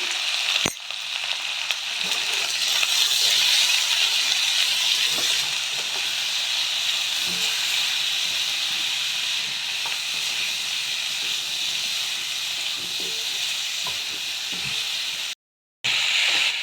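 Lentil dal with vegetables, turmeric, green chillies and tomato cooking in a pot, giving a steady, even sizzling hiss that runs unbroken with a brief cutout near the end.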